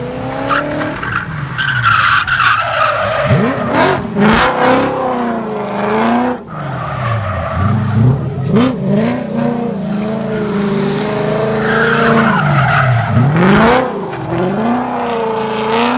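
Cars slide sideways on a wet track in the rain, among them a Nissan S13 with a swapped VK56 V8, engines roaring and dropping in pitch as tires hiss and skid, loud and close throughout.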